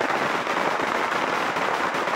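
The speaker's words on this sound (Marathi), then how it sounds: "फटाके जे आहेत।" Firecrackers burst in a fast, dense crackling string at an election victory celebration in Raigad, loud and continuous with no talk.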